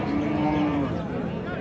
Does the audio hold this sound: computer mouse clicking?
no